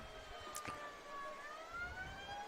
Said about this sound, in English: We've heard that fire alarm, fire truck siren a lot here tonight